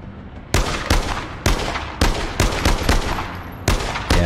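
Rapid sniper rifle fire in APB Reloaded: nine or so sharp, loud, close shots fired at a quick, slightly uneven pace, each followed by a brief decay.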